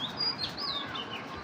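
Racer pigeons give short, faint chirping calls in a quiet indoor space, a few thin tweets rising and falling over soft background noise.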